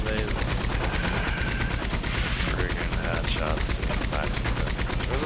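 Dense, rapid gunfire from a shootout in the video game Red Dead Online, with loud shots following each other in a continuous, unbroken barrage.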